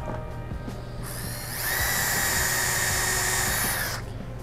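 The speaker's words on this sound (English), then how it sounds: "I can drill the rest of these holes and they will align" A power drill whines at high pitch for a few seconds, starting abruptly and cutting off, over a low background hum.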